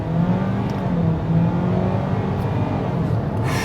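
A 2024 Ford Maverick XLT FX4 with the 2.0-liter turbo engine accelerates off the line from a slight brake torque, a steady engine drone that stays constant and moderately loud throughout.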